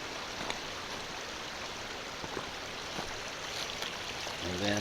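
A small mountain stream runs right alongside a hiking trail in a West Virginia state park, giving a steady soft rush of flowing water, close and continuous, with no talking.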